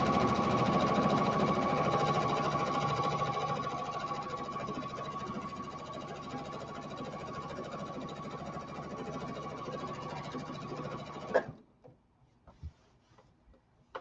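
A sewing machine stitches steadily in a fast, even whir with a faint ticking rhythm, close and moderately loud, then stops abruptly near the end, leaving a few soft clicks and taps.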